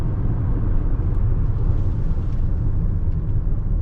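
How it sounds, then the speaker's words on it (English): Cabin rumble inside a 2021 Toyota Venza Limited hybrid slowing from highway speed, a dense low road and tire roar that stays steady and heavy throughout, with no voices. "let's go ahead and do a little bit of a braking test."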